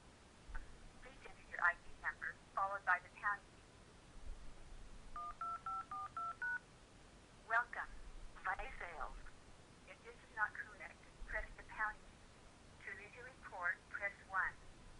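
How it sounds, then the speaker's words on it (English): Touch-tone keypad dialing into an automated phone account system: a quick run of paired DTMF beeps, clear and evenly spaced, set among stretches of people talking before and after. "I'm going to dial in, and you can actually listen to this call."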